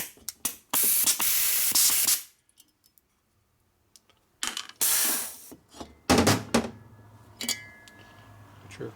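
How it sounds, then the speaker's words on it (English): A heavy-duty air-operated valve spring compressor on a 103ci Harley Twin Cam Dyna cylinder head hisses in repeated sharp bursts of compressed air, some long and loud, others brief, with clicks and metallic clinks between them. "this is my valve spring compressor here, air operated, super heavy duty"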